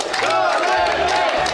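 A large crowd at a political event in the Philippines shouts and cheers loudly and continuously, a dense roar of many voices close by.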